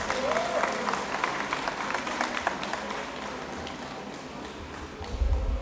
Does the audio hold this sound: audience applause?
yes